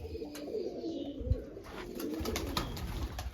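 Pigeons in a rooftop loft coo steadily and close by, with soft bird calls running through the whole stretch.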